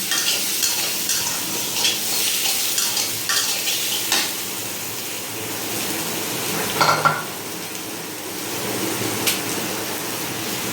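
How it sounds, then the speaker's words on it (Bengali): Finely chopped onions frying in hot oil in a pan for a Bengali egg dish, a continuous bright sizzle with occasional stirring scrapes and a spatula knock against the pan. "ওই পেঁয়াজগুলোকে আপনারা ভেজে নেবেন।"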